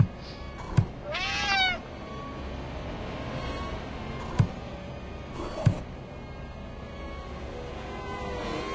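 A cat meows in the Friday the 13th Killer Puzzle video game, one drawn-out rising and falling call early on, followed by a few sharp clicks over a low hum.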